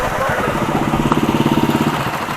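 A Hero Splendor Plus motorcycle idles nearby while being parked. It makes a steady, low, even putter, and people talk over it.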